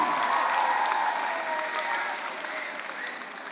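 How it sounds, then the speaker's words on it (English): A crowd at a junior debate event applauds steadily, dense clapping filling the room and gradually easing off toward the end. "can we give a huge round of applause to our affirmative team?"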